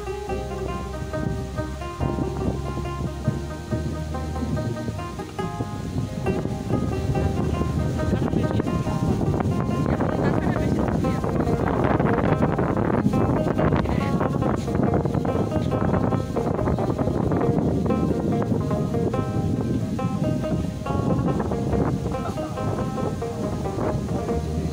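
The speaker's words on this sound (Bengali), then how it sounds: "প্রচন্ড বাতাস।" Strong Kalbaishakhi storm wind in a Bangladeshi village under a cloudy sky, roaring as a loud, continuous broadband rush that builds in intensity around the middle with gusty surges and no clear talk.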